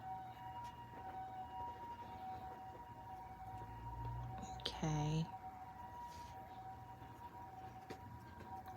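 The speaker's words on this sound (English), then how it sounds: "Do you guys pray for people when you hear an ambulance?" An ambulance siren wails briefly in the middle, a short rising-and-falling tone heard at a distance under steady background noise, with a person speaking softly nearby.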